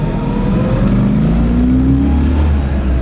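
The engine of a 1970 Ford Mustang Boss 302 revs loud and close, its pitch climbing steadily over a deep rumble, with no voices.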